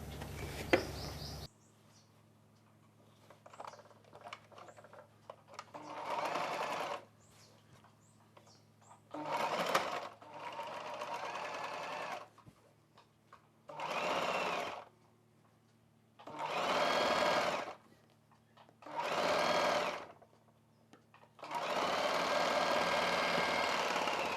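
A sewing machine stitches a maxi dress in several separate bursts of whirring, some short and some longer, with quiet pauses between them and a faint murmur in the gaps.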